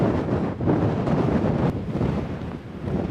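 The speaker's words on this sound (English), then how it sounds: "It's just a little too windy." Strong wind buffets the microphone in continuous gusts, a loud rushing roar that rises and dips without pause, a headwind on the Continental Divide Trail.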